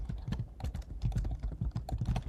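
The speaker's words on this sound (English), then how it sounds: "I'm typing that note to myself." Rapid, close clicking of a computer keyboard, an uneven patter of keystrokes with no voice over it.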